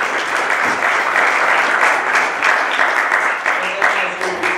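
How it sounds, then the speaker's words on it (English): A quick round of audience applause at a college talk on climate change and national security, loud and sustained dense clapping filling the room, with some voices mixed in. "Quick round of applause."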